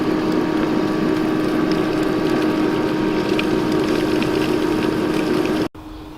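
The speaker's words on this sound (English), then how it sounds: "we can turn our pump on." A pool pump runs to power a Bestway Flowclear Aquaclean pool vacuum kit (58234), giving a loud, steady mechanical hum and whir close by that cuts off abruptly near the end, with no voices.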